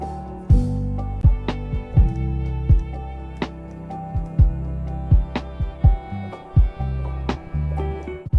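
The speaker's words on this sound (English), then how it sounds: "Got a nice warm string texture now blended into the track." Warm sustained string texture from the Joylin Strings VST with EQ, blended into a beat with punchy kick and percussive hits in a steady repeating groove, up front and without talking.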